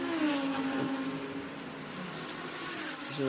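GT race cars power out of the Lesmo 2 corner at Monza, a fairly faint engine drone with a brief upward rev near the start, then a steadier tone, heard from a distance without any talking.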